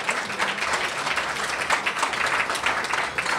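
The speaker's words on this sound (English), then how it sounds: "I think that deserves some hand clapping in here." Audience at an annual community awards ceremony clapping hands, a steady, dense round of applause that stays level for the whole stretch with no speech over it.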